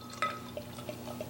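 A barrel-aged imperial stout, dark and strong at 13.8% ABV, is poured into a glass with soft, faint liquid trickles and drips in a quiet room.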